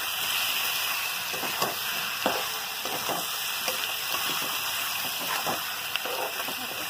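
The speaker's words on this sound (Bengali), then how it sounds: "এই যে হলুদ গুঁড়ো আর লঙ্কা গুঁড়ো আমি মিষ্টি আর কিছু দিলাম না, দিয়ে কষাচ্ছি।" Turmeric and chili powder sautéing in a pan with a constant close sizzle and hiss, interrupted by a few soft stirring scrapes.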